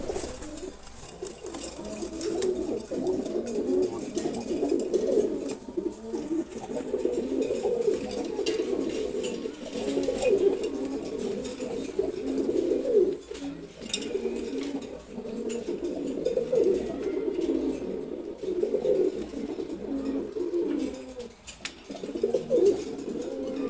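A pair of Sobji gola pigeons coo nearby in repeated low, rolling phrases that swell and fade in a steady rhythm, with no talk over them.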